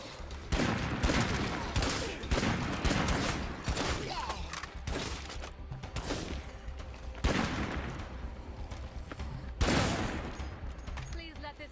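Gunfire in State of Decay 2, a rapid fusillade of shots with several loud bursts and sharp cracks, dense and near, with some mechanical clatter between volleys.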